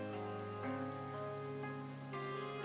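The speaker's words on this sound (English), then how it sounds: "And it just starts raining, typical." Steady rain patters on surfaces in the Final Fantasy XIV world, a soft, even hiss running beneath sustained musical tones from the game's score.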